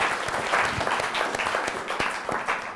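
Audience of law students at a university discussion club gives a round of applause, a dense, steady patter of many hands clapping throughout, fairly close and even in loudness.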